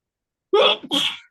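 One close, loud sneeze in two bursts, a sharp intake-like onset followed by a forceful second expulsion, then silence.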